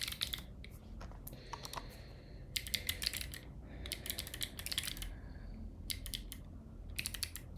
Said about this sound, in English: my keyboard is a, what is it? It's a Voyager.